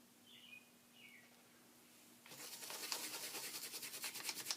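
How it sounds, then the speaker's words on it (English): A paint brush is worked nearly dry over a ceramic piece, giving close, rhythmic scratchy scrubbing strokes that start partway through after a quiet stretch with a faint bird chirp. "so I really want to work that brush."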